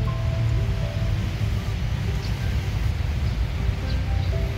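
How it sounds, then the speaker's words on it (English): Steady rushing water from a small waterfall in a Chinese garden, a continuous broadband wash that holds level throughout with no voices. "Oo, may falls."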